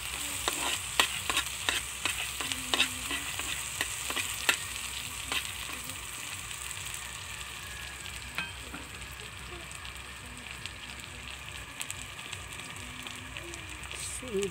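Garlic frying in a pan as the start of a chicken lunch dish: a steady, loud sizzle with crackling pops throughout and occasional scraping stirs against the pan.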